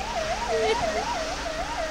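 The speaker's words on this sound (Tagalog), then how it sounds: "Nagasunod kami sa ambulansya nga ginasakyan ni Miting" An ambulance siren wails in a steady rising-and-falling cycle, repeating about every half second, loud and clear over a low rumble of traffic, with no voices.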